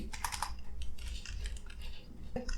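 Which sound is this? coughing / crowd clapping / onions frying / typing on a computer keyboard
typing on a computer keyboard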